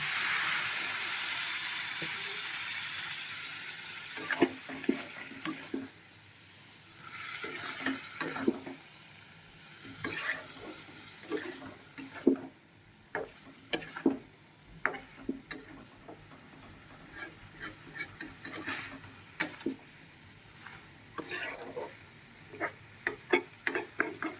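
Chingri (prawn) and fish frying in a pan with a little water added, giving a steady close sizzle and hiss with scattered sharp crackles and ticks throughout, no voices.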